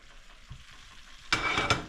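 Already-cooked beef is stirred back into a reduced, simmering pepper steak sauce, a soft bubbling simmer that is then broken by two loud, wet scraping stirs of a utensil through the pan near the end.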